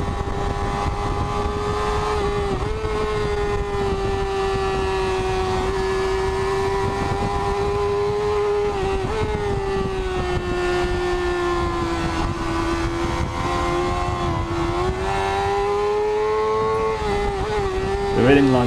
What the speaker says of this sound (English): The red inline 600, all of its power is so high in the rev range